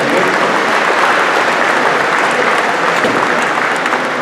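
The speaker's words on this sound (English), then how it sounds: "Round of applause." An audience at a Michigan small business celebration event applauds with loud, dense clapping that holds steady for about four seconds with no voices.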